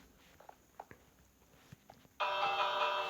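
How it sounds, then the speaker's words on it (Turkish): A bright chime of bells in a video game rings out suddenly after a few soft taps and footsteps, sustained and clear. "Çanlar çok güzel."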